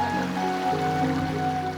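Gordale Beck, a Yorkshire Dales stream depositing calcium carbonate, flows steadily in a continuous watery rush, heard close and unbroken while a low voice and faint tonal hum sit underneath.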